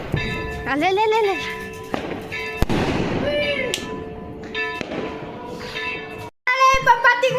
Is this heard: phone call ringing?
no